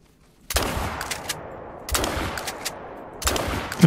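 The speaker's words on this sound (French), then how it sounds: "J'en ai tiré un, mais je sais même pas si je l'ai touché" A 16-gauge shotgun fires three times at pheasants in theHunter: Call of the Wild, each booming shot spaced over a second apart and trailing off in a long rolling echo.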